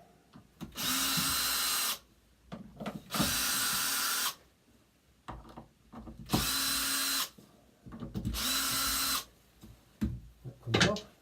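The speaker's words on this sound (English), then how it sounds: "I take these screws out." Power drill whirring in four separate bursts of about a second each as it backs screws out of a worktop, with quiet handling clatter in the pauses between runs.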